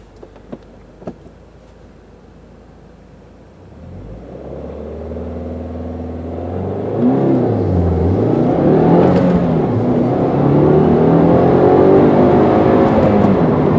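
A 2015 Subaru WRX with a six-speed manual launching hard from a standstill, the engine revving up sharply with a low rumble, then pulling through rising and dipping gear shifts, loud and steady for several seconds.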